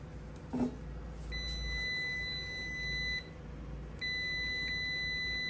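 A steady high-pitched electronic beep from a digital clamp meter's continuity buzzer sounds twice, a sustained tone of a couple of seconds each, over a faint background hum.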